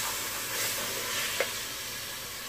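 Spices frying in oil for a mutton curry give a steady, close, even sizzle throughout, with a brief clink near the middle and no talking.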